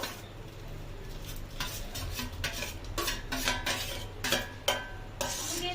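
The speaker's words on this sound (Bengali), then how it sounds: "তো আমি এই চিকেনটাকে এবারে এর মধ্যে দিয়ে দেবো" Chopped chicken is tipped into a pot of chicken soup and stirred, giving irregular metal clinks and scraping knocks against the pot over a low steady background, close by, with no talking.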